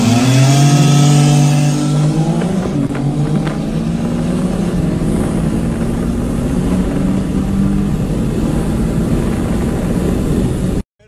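An Infiniti G37 with exhaust only races an old three-wheeled motorcycle, a loud engine revving and pulling hard up through rising pitch, then holding a steady droning run until it cuts off abruptly.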